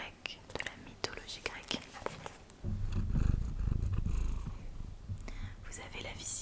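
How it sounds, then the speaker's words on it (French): A house cat purrs up close, a soft continuous rumble that swells midway and runs under gentle whispering, with small taps and rustles scattered throughout. "au moins vous avez le ronronnement"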